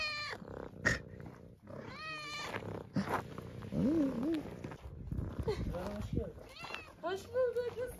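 A hungry cat meows repeatedly, with rising and falling wavering calls up close in a village home, while people talk around and over it.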